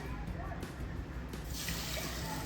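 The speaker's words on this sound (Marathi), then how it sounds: "एक कप आपण पाणी घालून घेऊया" One cup of water poured onto half a cup of sugar in a pan for syrup gives a soft, continuous splashing trickle, fairly quiet and close, with faint talk around it.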